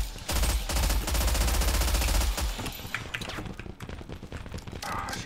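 Rapid, dense gunfire in the survival shooter Zero Sievert, loud bursts of automatic fire early on giving way to scattered shots and game noise.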